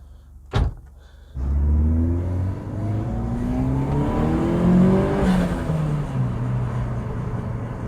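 A Peugeot 207 GTI, recently repaired after a coolant leak, gives a short sharp knock and then its engine revs up with rising, sweeping tones that climb and fall as it accelerates, close and loud.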